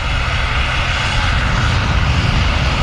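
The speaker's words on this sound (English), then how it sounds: "There goes the Loganair ATR 42. Vacating 23 right at Manchester" A Loganair ATR 42 turboprop rolls at Manchester Airport, its engines producing a loud, steady, broadband roar with a low droning hum throughout.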